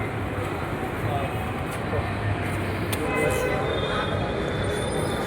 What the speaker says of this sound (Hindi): हम मेट्रो जा रहे हैं, मेट्रो हमारी आने वाली है